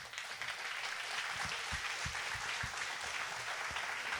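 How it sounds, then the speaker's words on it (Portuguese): A church congregation applauds during a sermon, a faint, distant, steady wash of many hands clapping with a few sharper claps standing out. "Vamos aplaudir Jesus bem forte"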